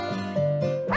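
A small white pet dog barks indoors at a house, a few loud close yelps and yips in quick succession over a sustained tonal hum.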